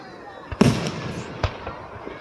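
Fourth of July fireworks with sparkling glitter effects: a sharp loud burst followed by crackling fizz, then another softer pop and faint crackles, with a voice speaking lightly underneath.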